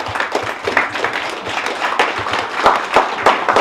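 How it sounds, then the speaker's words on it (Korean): An audience claps for a flag entrance at the founding ceremony of a Hongik Ingan national movement council. The applause is dense and sustained, with sharp individual claps standing out from the crowd. "모두 자리에서 힘찬 박수를 부탁드립니다"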